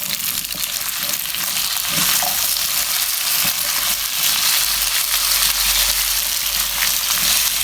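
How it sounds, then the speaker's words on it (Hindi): Chopped potatoes fry with garlic in a pan for an aloo methi sabzi, giving a steady loud sizzle with stirring scrapes throughout and no talking. "अब हम इसमें कटे हुए आलू डाल देंगे।"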